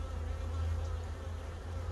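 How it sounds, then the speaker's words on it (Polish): Honeybees drone steadily at an open hive during a beekeeping inspection, a continuous close, low buzzing hum with no talking. "O, pszczółka"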